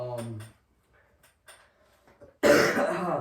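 A single loud, harsh cough bursts out close by after a short stretch of talking and quiet, lasting nearly a second.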